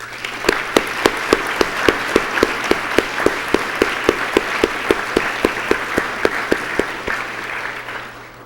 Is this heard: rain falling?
no